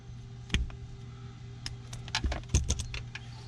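Wire cutters snip through wiring during a power running board install on a Ford F150 Lightning, producing several sharp, close clicks and snaps in quick bursts over a faint steady background hum.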